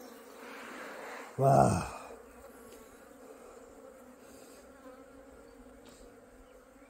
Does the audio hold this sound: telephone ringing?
no